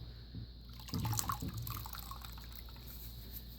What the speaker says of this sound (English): rinse out your rag and get some